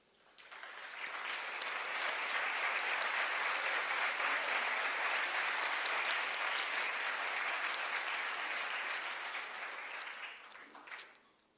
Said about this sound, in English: So I'd like to ask them to stand up for a round of applause.